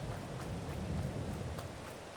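Rain falls steadily outdoors, making an even, close hiss of drops with no pause and no talk.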